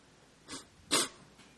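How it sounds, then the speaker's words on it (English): Two short nasal sniffles from a person with allergies, the second louder and sharper than the first, close to the microphone with no talk. "Again, I apologize for all the sniffling."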